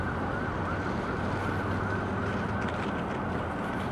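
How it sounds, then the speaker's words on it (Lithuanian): Emergency sirens of ambulances, police cars and fire engines wail continuously across a hot city in Dubai, a dense, steady layer of overlapping sirens with broadband street noise beneath, no voices. "kaukia sirenos, ten greitoji, policija, gaisrinė."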